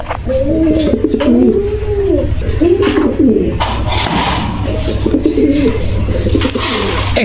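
A pair of fancy domestic pigeons, male and female, cooing in a small cage at a pigeon farm, repeated rolling coos close and loud over a low steady hum.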